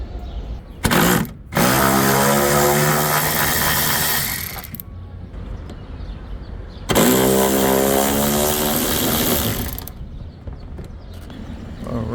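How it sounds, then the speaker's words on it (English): Bolts coming out of a Toyota RAV4 liftgate under a power tool, two long loud buzzing whirs with a ratcheting drone, separated by a gap, close and dominant. "Now I have some clearance to remove the bolts on the side."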